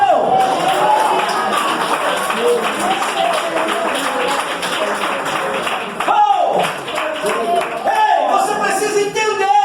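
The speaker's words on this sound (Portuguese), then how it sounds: "pode aplaudir a palavra de Deus" A church congregation in Assomada, Cabo Verde, applauds and cheers as a full, dense crowd sound, with shouting voices over steady clapping throughout, loud and close.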